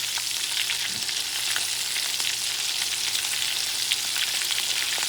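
Scallops frying in a pan, a bright, even, close sizzle with faint crackles and small clicks as they are turned over.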